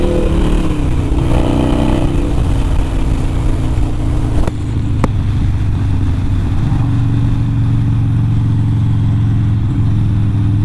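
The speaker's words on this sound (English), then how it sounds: "Just the sound of this bike is just awesome." A Harley-Davidson Sportster 48 motorcycle rides along a road, its engine rumbling loud and close throughout, with a brief change in tone midway before settling into a steady drone.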